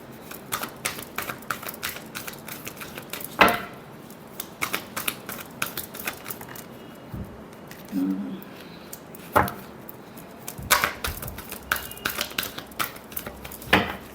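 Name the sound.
shuffling tarot cards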